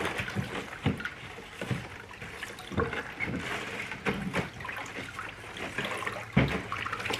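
Well water is swished and stirred by hand in an electrolysis tank used for de-rusting cast iron pans, with irregular close sloshes and splashes rising and falling in uneven bursts.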